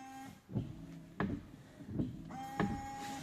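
A 2010 Audi A4 windshield washer and wipers running, with repeated soft mechanical thumps about every 0.7 seconds as the wiper arms sweep, and a faint motor whine, heard up close at low level.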